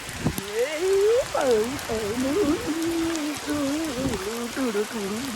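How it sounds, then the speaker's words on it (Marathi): Monsoon rain patters steadily on a morning in Konkan, a soft continuous hiss beneath people talking nearby. "पाऊस पडतोय बाई बाई लय पाऊस पडायला पाहिजे जोरात"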